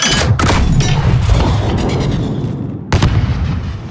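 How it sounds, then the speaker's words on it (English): Illumination flare rounds fired in a Call of Duty: Modern Warfare night sniper mission, two loud booming launches with long rumbling tails, close and heavy, no talk. "Launch a flare. We'll pick them off in the light. Illumination rounds."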